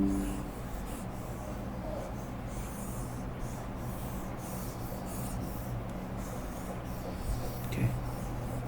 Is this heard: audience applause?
no